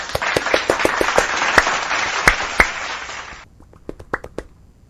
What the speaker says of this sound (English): let's give a big round of applause for everyone who joined